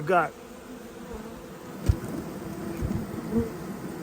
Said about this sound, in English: I've got vents on the bottom, and the vents are full of bees